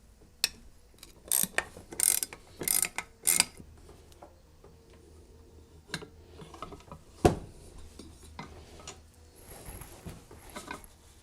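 Ratchet and socket wrench loosening lower unit bolts on a Mercury/Tohatsu 4-6 HP four-stroke outboard, with bursts of rapid clicking ratchet strokes early on, then scattered metallic clinks and knocks, close up with no talk.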